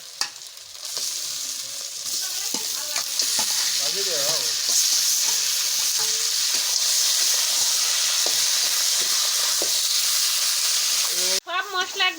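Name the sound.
chicken meat frying with spices for biryani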